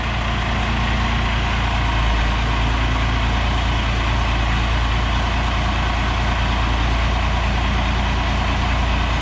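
An International Harvester Loadstar truck engine idles steadily after a cold start, a loud, deep, constant rumble close by with no voices or pauses.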